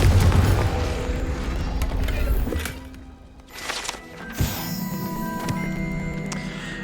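Confringo fire spell exploding in the video game Hogwarts Legacy, a deep booming blast at the start trailing into rumble, followed by softer impact crackles and game effects.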